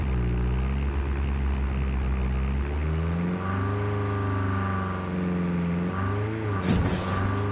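A propeller airdrop plane drones overhead in the Call of Duty Mobile battle game, a steady loud engine hum whose pitch rises and falls as it passes, with no voices.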